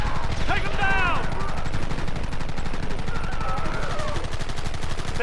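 Sustained rapid gunfire from a Red Dead Redemption shootout, dense and loud throughout with rattling bursts, while voices shout over the shooting.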